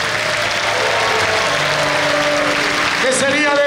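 A congregation at a Catholic religious gathering applauds in a steady, loud wash of clapping, while a voice speaks or sings over it and musical tones rise near the end.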